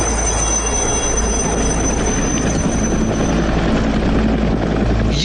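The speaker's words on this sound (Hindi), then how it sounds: "और इस काम में लगे हैं भारत के 2 हेलीकॉप्टर" Helicopters assisting the oil cleanup off Mauritius after a Japanese ship broke apart, a loud steady rotor and engine roar that holds constant and close for several seconds with no voices.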